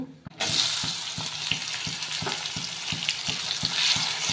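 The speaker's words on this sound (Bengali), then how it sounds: "পেঁয়াজটাকে দিয়ে লাল লাল করে ভেজে নেব।" Onions fry in hot oil with whole garam masala, a bay leaf and cumin, a steady close sizzle with regular stirring knocks spaced about every third of a second.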